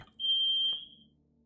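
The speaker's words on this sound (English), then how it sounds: "I think the smoke alarm just went off." A smoke alarm goes off indoors with one loud, piercing high-pitched beep lasting under a second, after which the room falls quiet apart from low background hum.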